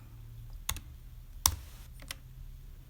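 Typing on a computer keyboard during Cricut design software work: a few sparse, quiet key clicks, with a sharper tap near the middle, over faint room hum and no talking.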